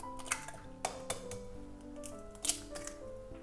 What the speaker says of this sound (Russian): Разбиваю в миску 2 яйца.